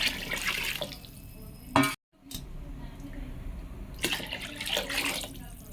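Water poured into a pan for a potato curry gravy, a splashing liquid rush heard in bursts around a brief silent gap, fairly close.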